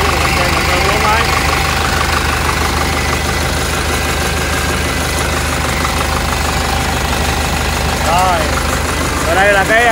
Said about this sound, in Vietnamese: chúng ta quay vĩ cho bà con xem động cơ 4 máy